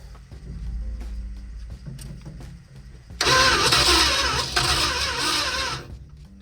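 A 1972 Plymouth Satellite Sebring Plus engine, unrun for almost three decades, cranks with a low, uneven grinding, then roars harshly to life and runs loud and rough before cutting off.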